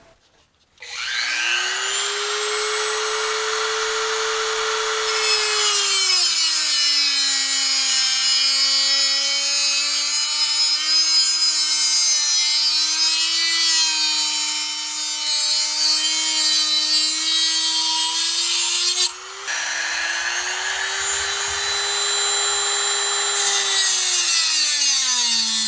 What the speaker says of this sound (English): Drilling all these holes can get a little tricky